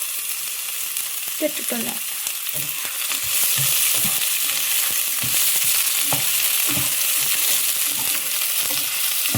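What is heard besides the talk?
onions frying in hot oil for biryani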